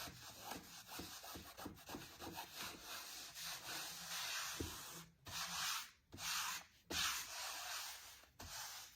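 A hand rubs paper flat onto a surface while making Santa wall art, giving a steady dry scratchy rubbing with repeated strokes and brief pauses, close and moderately loud, with no talking.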